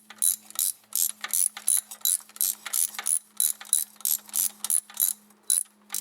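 Ratchet snugging thermostat housing bolts on a 2002 Dodge Dakota with a 13 mm socket, a close, crisp run of rapid clicking bursts repeating in a steady back-and-forth rhythm, alone without talk.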